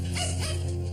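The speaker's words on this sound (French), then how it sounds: "Ils ont commencé à aboyer et à montrer les dents." Dogs bark on the second floor of a building: a single short, loud, tonal bark sounds close to the microphone.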